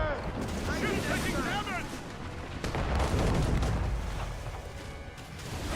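Mortar fire in Assassin's Creed Rogue, booming naval-battle blasts and rumbling impacts mixed with game voices and clatter, loud and dense across the stretch.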